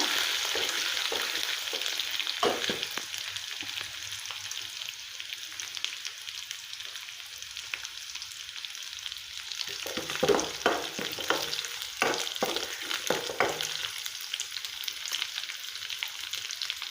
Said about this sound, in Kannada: ಹಿಂಗೆ ಇದಕ್ಕೆ ಜಜ್ಕೊಂಡಿದ್ದ ಹಸಿ ಬೆಳ್ಳುಳ್ಳಿ ಹಸಿಮೆಣ್ಸಿಕಾಯಿ ಬೆಳ್ಳುಳ್ಳಿ ಪೇಸ್ಟ್ ಹಾಕಿ ಇದು ಹಸಿ ವಾಸನೆ ಹೋಗೋ ಮಟ್ಟ ಹುರ್ಕೋಬೇಕು ಫ್ರೈ ಮಾಡ್ಕೊಂಡು